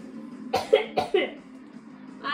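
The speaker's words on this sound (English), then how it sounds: "I've got a bad cough." A few sharp, close coughs in quick succession, then quiet.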